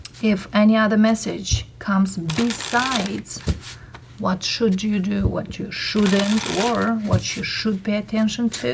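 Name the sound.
shuffling Wild Reflection Tarot cards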